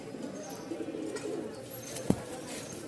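Soft, continuous cooing of Giribaz pigeons at a pigeon market in Mirpur-1, Dhaka hums low and close, broken once by a brief sharp tap.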